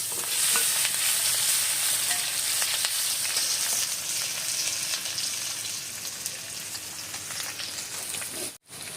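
Dried red chillies, a bay leaf and chopped onion sizzle in hot oil, a loud continuous close-up crackle with stirring, fading slightly before a brief dropout near the end.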